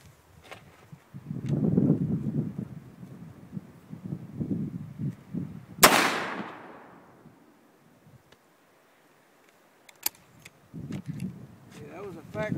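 A .43 Mauser rifle fires a factory load at a yard range, one sharp loud report with a quick decaying tail, surrounded by talk before and after.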